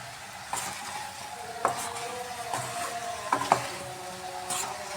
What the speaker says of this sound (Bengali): এভাবে ভালো করে মশলা দিয়ে আমি মিক্স করে নিচ্ছি